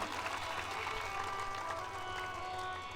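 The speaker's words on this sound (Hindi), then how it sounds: "बजाओ ताली।" Audience at a spiritual discourse in India clapping together, dense, steady applause filling the whole stretch at fairly close range, without speech over it.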